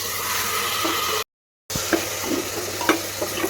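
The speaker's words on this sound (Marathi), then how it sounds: "छान प्रकारे असं सगळीकडे हलवून घ्यायचं." Rice and dal being stirred with spices in a pan, a soft scraping and sizzling with a few spoon knocks against the metal, close and steady after a short gap.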